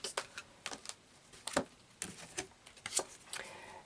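Tarot cards being shuffled and pulled from the deck, a run of quick papery riffles and snaps that come in close, irregular bursts with brief pauses between them.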